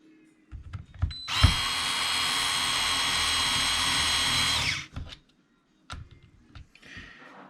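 A power drill tightens the differential cover on an E-Revo 2.0 RC truck in one loud, steady whirring burst of about four seconds, bracketed by clicks and handling noises.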